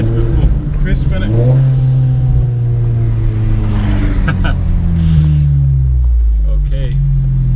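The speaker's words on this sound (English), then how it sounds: "You'll definitely hear this car. It's a proper loud car, man." Modified 420bhp Seat Leon Cupra engine revving and accelerating loudly up close, its rising tone sweeping up and falling back, with talk over it throughout.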